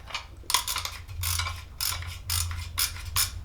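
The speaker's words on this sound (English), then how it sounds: "You hear that ratchet mechanism? It sounds just like the clutch." Ratchet mechanism clicking inside a round-cam rope rescue descender, heard as several bursts of rapid metallic ratcheting, close and distinct, with no voices.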